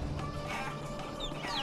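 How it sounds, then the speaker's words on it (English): Chickens clucking in the video game Guacamelee, a fairly steady stream of clucks and squawks over game background sound, with no talk. "Fuck these chickens."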